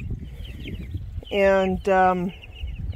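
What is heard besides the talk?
chicks chirping and clucking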